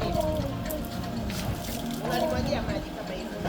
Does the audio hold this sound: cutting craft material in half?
no